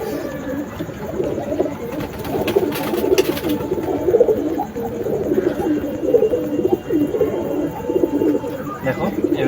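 Adult pigeons cooing nearby, repeated low rolling coos in overlapping phrases over several seconds, with a faint background hum and a brief rustle early on.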